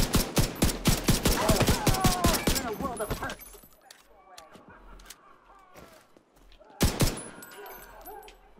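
Rapid automatic gunfire from a light machine gun or submachine gun in The Division 2 rattles out in a loud, fast burst for about three seconds, then quieter scattered shots and another short burst follow.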